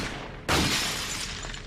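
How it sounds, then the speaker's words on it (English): Glass is smashed in Resident Evil 4 VR. A single sharp, bright shatter breaks in suddenly, and a fizzing scatter of falling shards and a low hum trail after it. "we do get to break some glass because there's an emerald."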